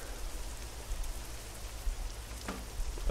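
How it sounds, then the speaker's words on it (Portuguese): Heavy rain pours down in a dense, steady hiss with low rumbling underneath in the American Truck Simulator video game, no voices present. "olha a chuva braba"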